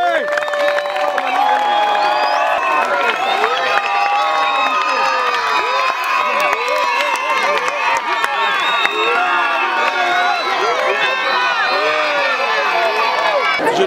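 A dense, noisy crowd at an outdoor school visit fills the whole stretch with continuous shouting, cheering and children's voices, with some clapping mixed in under loud talk.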